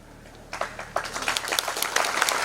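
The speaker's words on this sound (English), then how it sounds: "we should give him a round of applause." A college audience in Meghalaya breaks into applause for a local engineer, starting after a brief quiet moment and building into steady, moderately loud clapping from many hands.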